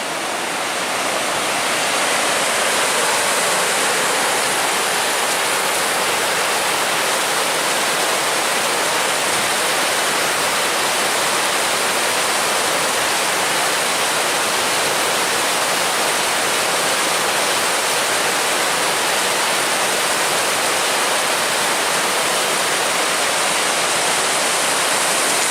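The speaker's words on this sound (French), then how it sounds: "Donc là on a des cours d'eau un peu comme ça tout le long" Mountain stream water rushing steadily along a hiking trail beside glacier-marked terrain, a dense, constant roar with no breaks and no voices.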